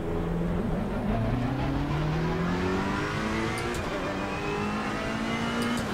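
Ferrari engine in a sim racing game revving and climbing through first gear, a smooth rising whine with steady harmonics, heard alone at moderate level with no voices.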